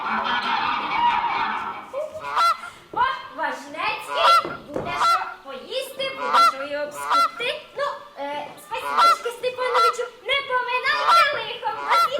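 Geese honk loudly and repeatedly in a rapid, overlapping series, with a burst of noisy cackling at the start, during a stage play.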